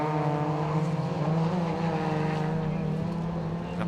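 Suzuki Swift Sport rallycross cars racing at Mondello Park, a loud continuous engine drone with shifting harmonic pitch as the cars pass, steady and close throughout with no audible talk.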